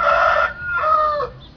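A Shamo game rooster crows nearby in two strained, rasping bursts separated by a brief pause, heard alone without talk.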